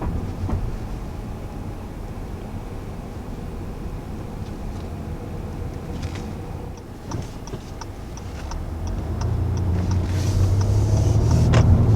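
2020 Acura TLX engine tuned to sound like a V6, heard from inside while driving: a steady low drone with light ticking that swells louder and deeper toward the end.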